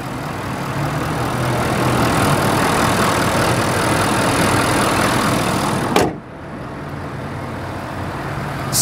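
A Ford F-350 diesel pickup engine idles with a steady low rumble and a faint turbo whine, broken once by a brief clunk before the idle resumes.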